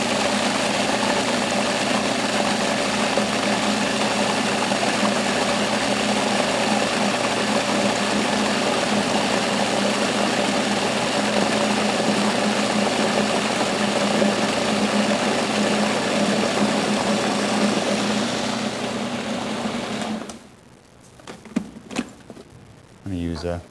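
Food processor whirring steadily while blending romesco sauce of roasted red bell pepper and hazelnut, a loud continuous motor drone that cuts off near the end, followed by a few faint clunks and handling sounds.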